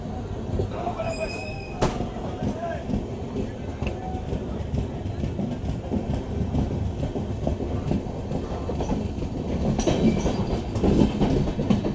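The Mumbai Howrah AC Duronto Express running on rails after departing Igatpuri, a steady rumbling roar with rhythmic wheel clatter and occasional squeals, heard from inside a coach and building slightly louder toward the end.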